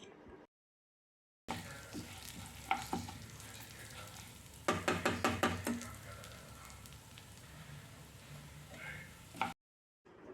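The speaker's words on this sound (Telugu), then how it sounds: "వెల్లుల్లి డబ్బలు కూడా వేసుకొని కలిపి వేపుకోవాలి" Garlic cloves stirred and fried in a pan for toor dal chutney: a steady close sizzle with scraping spatula strokes, including a burst of rapid stirring scrapes midway, between short silent gaps at start and end.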